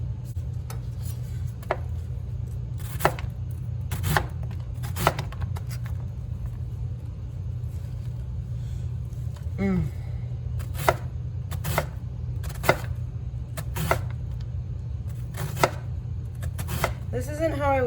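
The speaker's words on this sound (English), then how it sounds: "Two chopped carrots is a lot" Carrots being chopped on a cutting board with a knife, sharp evenly spaced thuds repeating over a steady low kitchen hum, with brief voice fragments in between.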